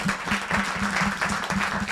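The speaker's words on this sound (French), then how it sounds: "On te remercie, on t'applaudit." An audience claps steadily at a French memorial gathering, with dense, evenly sustained applause filling the room without voices over it.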